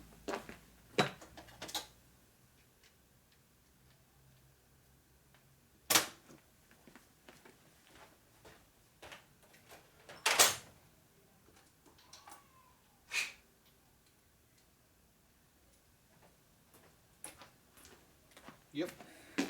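A deep well socket is used to tap parts into a 1965 Harley-Davidson panhead 74ci engine block, producing a few sharp metallic knocks spread apart, with softer small clicks between them.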